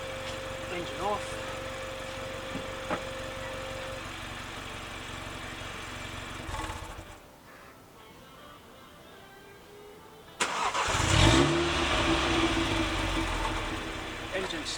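A flood-damaged Mini John Cooper Works engine runs, cuts out into near quiet, then cranks and catches again, roaring back to a loud steady idle.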